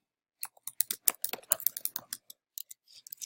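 Quick, close typing on a computer keyboard: a light, irregular patter of clicks in short runs with brief pauses, alone and fairly soft.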